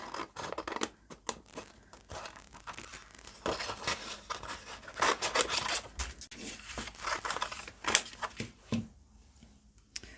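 Scissors snip through a gel print, cutting out a section for a wonky house, with repeated crisp close-up cuts and paper rustling in an uneven rhythm, no talking.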